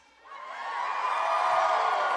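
An audience at a PAX West convention panel breaks into cheering, a crowd roar that swells quickly from quiet and holds loud and sustained with whoops mixed in.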